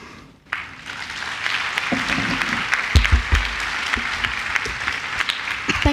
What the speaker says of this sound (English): Again, a big round of applause for Joe Patchara.